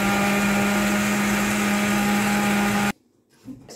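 An electric blender purees cooked wild garlic soup with a loud, steady high-pitched motor whine close by, then cuts off abruptly into near silence with a faint knock.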